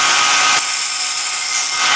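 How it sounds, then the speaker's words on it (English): Tack welding a metal tube onto a part for a rotary-swapped Honda QA50 build: a loud, close, crackling hiss of the welding arc that starts abruptly and holds steady for under two seconds. "I'm going to tack weld that piece onto there"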